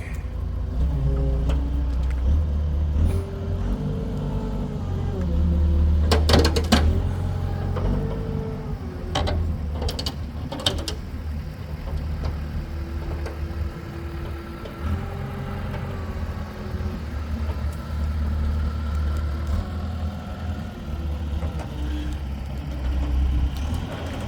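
A truck engine runs steadily close by at a stump-removal job, a low continuous rumble with brief mechanical knocks and clanks around the middle.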